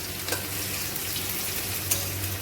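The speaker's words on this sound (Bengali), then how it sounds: "একটু পেঁয়াজটাকে একটু ডিপ ফ্রাই করে নিচ্ছি।" Onion deep frying in oil in a kadai for a Bengali pabda fish jhal gives a steady, close sizzling hiss throughout, with a couple of brief louder crackles.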